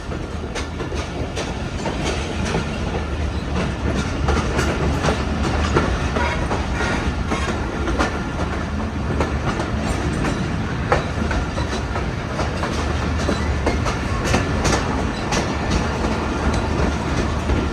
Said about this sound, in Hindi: बेहतरीन हिलते जुलते जा रही है हमारी ट्रेन